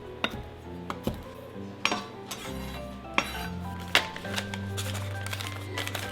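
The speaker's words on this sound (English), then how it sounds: "I think I'm gonna give it just a little bit of a chop." A kitchen knife chops torn lettuce leaves on a cutting board at home, giving a series of sharp, irregular taps and knocks with clinks of utensils in between, close and fairly loud.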